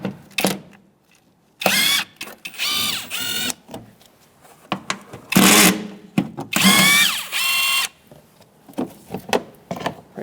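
A power tool with a 10mm socket spins out the two bolts holding a plastic cover on a 2002-2006 Toyota Camry 2.4L four-cylinder, sounding as several loud, close whirring bursts with short pauses and ratchet clicks between them.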